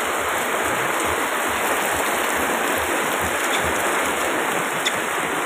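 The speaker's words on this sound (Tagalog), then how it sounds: "Buhos na, ang ulan." Heavy rain pours down at the Pritil public market in Tondo, Manila. A dense, steady, loud roar of rainfall continues throughout, with no voices.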